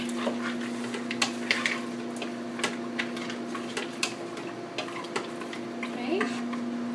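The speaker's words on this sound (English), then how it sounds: "So we're going to put that in there. It's nice and hot. We're going to stir it around." A utensil stirs hot clam stock with clams into a paella pan, giving soft scraping strokes and light ticks over a steady low sizzle and hum, close and fairly quiet.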